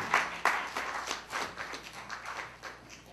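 A small group claps unevenly, with two sharp loud claps at the start followed by scattered, softer clapping that tapers off.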